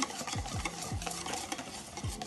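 A spoon stirs a baking mixture in a bowl with rhythmic scraping and soft knocks, close up and continuous, with no voices.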